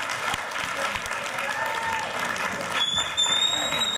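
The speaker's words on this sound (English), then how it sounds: "Big round of applause, everybody." Audience applauding at a film screening event at Cinetopia in Detroit, steady dense clapping with some cheering, a voice talking over it, ongoing for the whole stretch.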